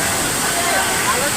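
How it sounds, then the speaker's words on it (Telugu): Masen Loddi waterfall at Doolapuram in Wazeedu mandal, Mulugu district, roars as a steady, broad wash of falling water, close and continuous, with faint crowd babble mixed in. "ఇప్పుడు మీరు చూస్తున్న వాటర్ ఫాల్స్ ములుగు జిల్లా వాజేడు మండలం దూలాపురం ఇప్పగూడెం సరిహద్దు ప్రాంతాల్లో ఉన్న మాసెన్ లొద్ది వాటర్ ఫాల్స్"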